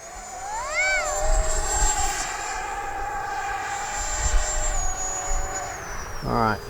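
An FMS Futura V3 80mm electric model jet makes a low pass, its high turbine-like whine holding steady and bending in pitch as it sweeps by at close range, with faint voices near the end.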